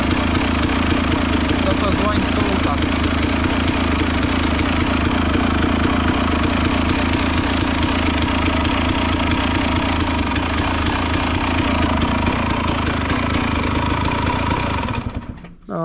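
A KTM SX 250 two-stroke motocross bike idles close by with its revs raised after repairs, giving a steady, loud, buzzing rattle that holds for about fifteen seconds before cutting off abruptly.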